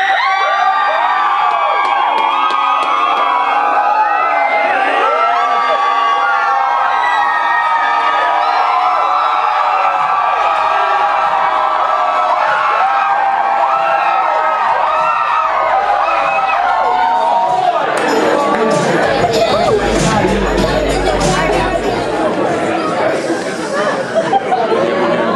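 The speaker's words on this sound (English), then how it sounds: "the person who can cheer the loudest will get a t-shirt thrown to them" A stand-up comedy audience cheering, whooping and shouting loudly in a crowded room, a sustained roar of many voices that swells into a louder burst toward the end.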